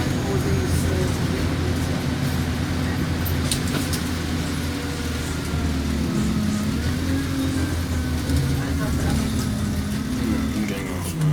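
A Go Ahead London Enviro 200 bus on route 300 runs with a steady low engine drone and road rumble, heard from inside the cabin at a constant loud level throughout.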